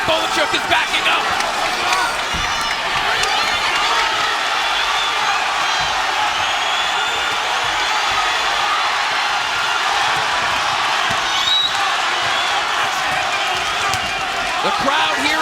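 A packed Las Vegas boxing arena crowd roars and cheers steadily during the Serhii Bohachuk vs. Vergil Ortiz Jr. fight, a dense, loud wall of noise with commentary voices talking over it.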